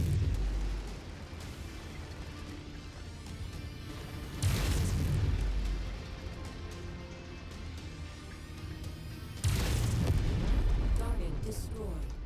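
Heavy booms from a mech target exploding in MechWarrior 5: Mercenaries, with two loud deep blasts several seconds apart over a low rumbling game soundscape.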